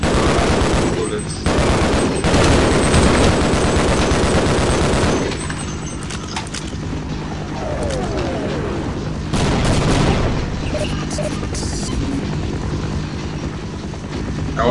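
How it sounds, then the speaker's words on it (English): Gunfire in the Half-Life video game: loud bursts of rapid shots and booms during the first five seconds, then another volley near ten seconds, with game ambience and a voice talking between them. "I'm like shooting bullets."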